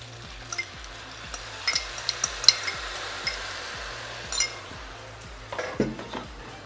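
A utensil stirs beef, crunchy vegetables and sauce in a pan, giving repeated scraping clinks and soft sizzling in an irregular rhythm, fairly close and moderately quiet, with no talking.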